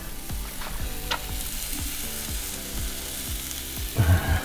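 Steak grilling at a campsite near Arches National Park, with a steady hiss of sizzling and a series of dull knocks and scrapes, close and fairly loud, with no talk.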